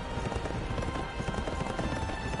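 A horse gallops in the video game Berserk Band of the Hawk, its hooves beating in a fast, steady clip-clop rhythm over dense, loud game sound, with no talking.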